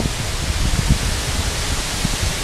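A loud waterfall on a trip in northern Thailand roars close by as a steady, unbroken wash of rushing water with low rumbling surges and no pauses.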